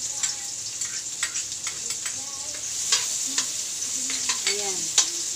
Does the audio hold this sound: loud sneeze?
no